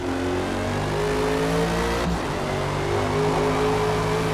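An Aston Martin Vantage GTE race car engine in the Forza Motorsport video game drones steadily and loudly, with a brief dip around the middle as it shifts or lifts, then carries on at a high, sustained pitch.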